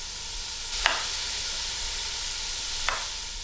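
A steady, soft sizzle of a cup of chopped yellow onion frying in two tablespoons of olive oil in a pan, with two brief sharp clinks of a utensil against the pan.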